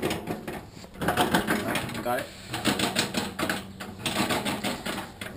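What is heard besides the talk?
bread maker churning dough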